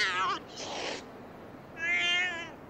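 A cat's hostile vocalising plays as a sound effect in a Korean horror audio story, with two drawn-out meowing cries and a breathy hiss between them, loud and close with no speech.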